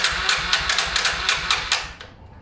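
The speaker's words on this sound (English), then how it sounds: "It did backfire." An old motorcycle that has been sitting unused for a while sputters and backfires during a start attempt, with a rapid run of about ten sharp pops that stop suddenly.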